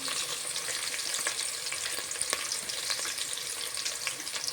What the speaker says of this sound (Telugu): ఇవి కొంచెం ఫ్రై అవుతున్నాయి